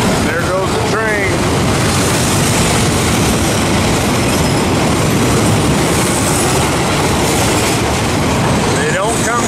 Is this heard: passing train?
yes